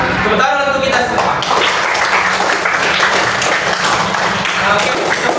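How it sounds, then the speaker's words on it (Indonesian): Classroom applause as students clap for one another at the end of a lesson on computational thinking; continuous crowded clapping throughout, loud and close, with voices mixed in. "Tepuk tangan untuk kita semua."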